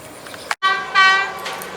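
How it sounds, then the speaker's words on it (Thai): Express train 52, Chiang Mai to Bangkok, approaches Chiang Rak Noi station and sounds a loud, close horn. A short blast breaks off, then a longer sustained tone swells and fades. "มาแล้วครับขบวนด่วน 52 นะครับเชียงใหม่กรุงเทพอภิวัตนะครับ"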